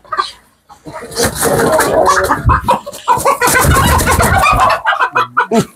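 Chickens on a poultry farm clucking loudly and close, many overlapping calls in a busy, uneven chorus that fills the space.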